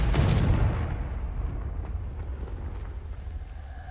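A Confringo blasting spell in Hogwarts Legacy sounds as one loud, deep boom at the start, then a long low rumble that fades slowly.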